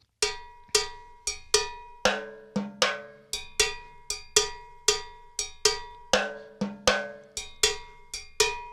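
Sharp drum rim shots crack out a syncopated Mozambique pattern, each stroke bright and ringing with a cowbell-like tone, repeating in a tight rhythm at moderate volume with no voices.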